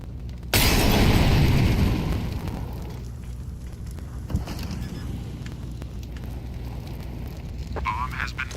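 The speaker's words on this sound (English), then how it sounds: "Throwing flashbang" A flashbang grenade detonates in a video game with a sudden loud blast, followed by a roaring, hissing wash that slowly decays into a muffled, ringing background with a few faint clicks.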